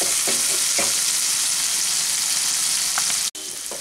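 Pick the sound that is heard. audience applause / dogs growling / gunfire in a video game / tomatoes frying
tomatoes frying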